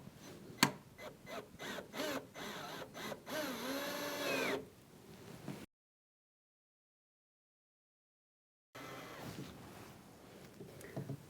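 A screw being tightened on a cavity box plug in a partition wall, spreading its flaps: close, rhythmic ratcheting bursts lead into a longer whir, then a stretch of silence before more faint mechanical noise.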